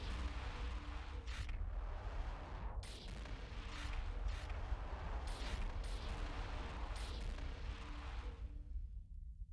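Starship weapons fire in EVE Online, a capital Erebus and a Zenitra trading shots near a citadel, forms a continuous rumbling barrage with repeated sharp bursts and booms layered over a dense, steady roar.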